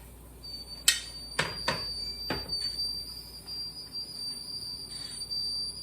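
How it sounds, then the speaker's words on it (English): Jars in a pressure canner of beef bone broth whistle in a thin, high, steady tone while sharp clinks and taps sound a few times near the start, fairly quiet overall. "the jars are whistling"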